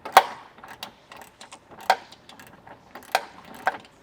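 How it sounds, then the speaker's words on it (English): A ratchet turns a 10 mm socket to tighten a bolt on an auxiliary power bracket on a Toyota 4Runner. It gives a few sharp, separate clicking strokes with quieter ticking pawl clatter between them, close up and with no voices. "We're going to get this thing tightened up, and then we'll go ahead and tighten the two bolts at the top."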